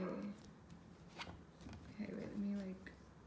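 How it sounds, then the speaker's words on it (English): A few quick papery riffles of cards being shuffled, soft and close, with some light handling noises in between. "let me like shuffle my cards"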